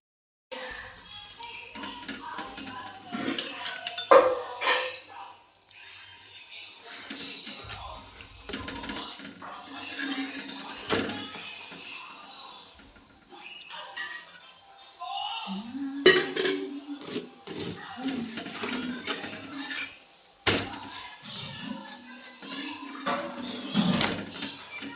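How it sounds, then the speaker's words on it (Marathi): Pots and utensils clink and clatter in a home kitchen while chapatis are being made, with scattered knocks and scrapes of varying loudness over quiet background. "चला आता चपात्या करून घेते."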